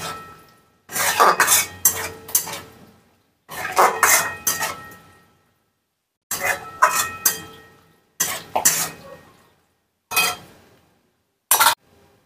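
Mushrooms with sour yogurt being stirred in a pan, bursts of scraping and clinking from a spoon against metal, separated by short silent pauses.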